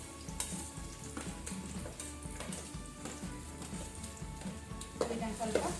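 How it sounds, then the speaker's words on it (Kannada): Garlic, ginger and green chilli fry in about two tablespoons of hot cooking oil over medium flame, a steady close sizzle with occasional stirring clicks and scrapes. "ಇದನ್ನು ಸ್ವಲ್ಪ ಫ್ರೈ ಮಾಡುವ ಮೀಡಿಯಂ ಫ್ಲೇಮಲ್ಲಿ."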